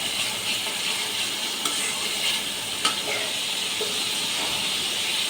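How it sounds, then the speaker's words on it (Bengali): Spice paste fries in a pan with ash gourd leaves, giving a steady, even sizzle and hiss as it is stirred, with a few faint scrapes and clicks of the utensil throughout. "ভালো মতো করে কষিয়ে নিচ্ছি।"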